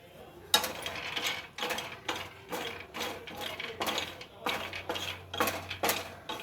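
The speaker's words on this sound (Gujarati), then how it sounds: "એકથી બે મિનિટ માટે આ રીતે સિંગના દાણાને આપણે તેલમાં શેકી લઈશું" Peanuts roasting in oil in a pan for coconut chutney, stirred in a steady rhythm of rattling, clinking scrapes against the metal pan, close and fairly clear.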